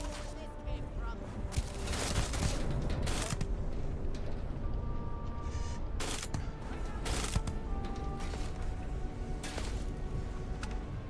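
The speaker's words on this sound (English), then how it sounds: "Where's the other one shooting me from?" Gunfire crackles in a Starfield firefight, with repeated bursts of shots over a dense, continuous battle din while a person talks intermittently.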